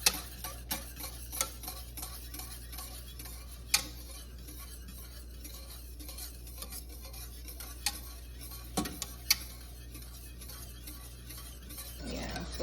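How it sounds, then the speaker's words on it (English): A coquito mixture of evaporated milk and egg is stirred in a pot, with light, irregular clinks and taps of the utensil against the pot over a steady low background hum. The stirring is quiet and close, with no talking. "So we're still stirring until the evaporated milk and the egg become thick, like a custard, sort of."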